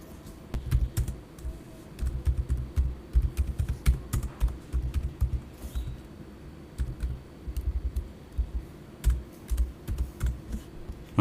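Rapid typing on a computer keyboard as a DAX query is entered in Power BI, close-up clattering keystrokes in irregular bursts with short pauses, occasional sharper key clicks standing out.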